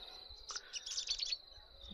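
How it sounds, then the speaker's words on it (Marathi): Quick, high chirps from sparrows, soft and a little distant, coming in a short flurry over quiet background noise. "इथं बघा किती भारी चिमण्याचा आवाज आहे।"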